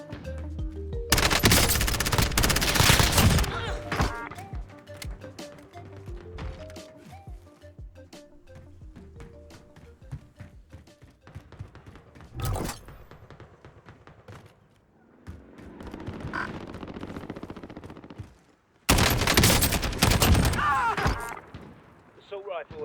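Rapid automatic assault rifle fire in a first-person shooter game, with loud sustained bursts at the start and near the end separated by sparse shots, explosions and game effects, with voices heard at times.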